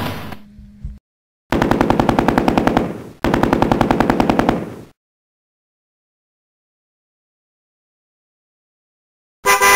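Rapid machine-gun fire from a U.S. Army scene rings out loud and close in two long, evenly paced bursts, with a brief shot before them and another burst cut off at the end.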